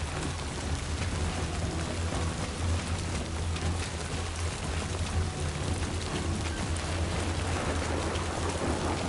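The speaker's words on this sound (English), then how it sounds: "There's a storm coming." Heavy rain pours steadily throughout a thunderstorm in the game Death Stranding 2: On the Beach, a dense hiss of drops on surfaces with low rumbling thunder underneath, continuous and loud with no voices.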